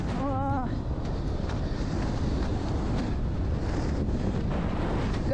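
Strong gusty wind buffets the microphone out on open water during a Hawaii wing foil championship race, a loud continuous roar with surges, with a brief tonal whine near the start.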